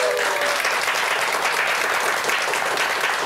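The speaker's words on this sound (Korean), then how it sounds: "다시 한번 큰 박수 부탁드리겠습니다" Full, steady applause from a studio audience at a televised talk show lecture on real estate investing, a continuous dense clapping that stays at an even loud level throughout.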